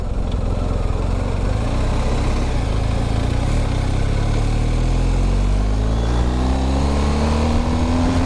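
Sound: BMW GS 1250 motorcycle being ridden

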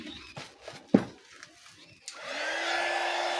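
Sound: heat gun blower heating old paint on motorcycle crankcase cover

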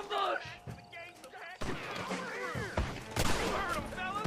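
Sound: gunfire in the video game Red Dead Redemption

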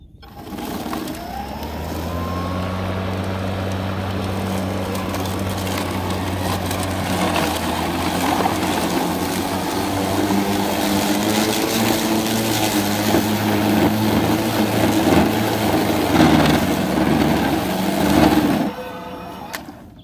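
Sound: Greenworks Pro 80-volt dual blade lawn mower running

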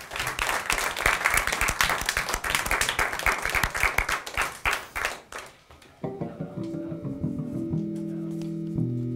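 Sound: applause for the bassist Zen

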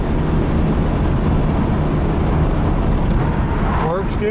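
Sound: car with 170 cubic inch flathead six engine driving in overdrive

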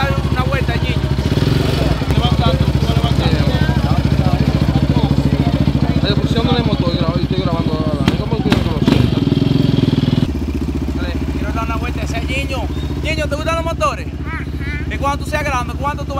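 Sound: Yamaha Raptor 700 ATV engine during a slow ride

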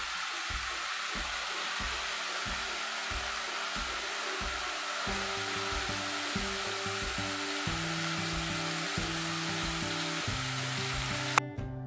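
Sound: tomatoes sautéing in a pan for crab gravy

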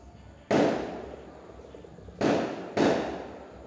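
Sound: firecrackers going off outside

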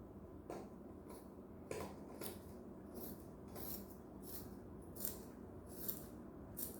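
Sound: scissors cutting table tennis rubber

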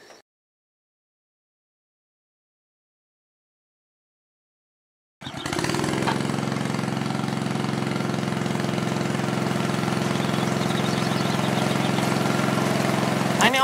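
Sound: homemade wildfire sprinkler system being turned on

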